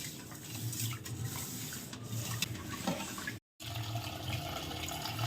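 Water runs and splashes steadily as fish is washed in a vessel with salt, a constant faint rushing broken by a brief silence, with no talk.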